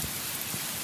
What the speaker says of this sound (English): the first cold drops of rain began to fall